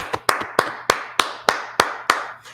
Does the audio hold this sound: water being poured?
no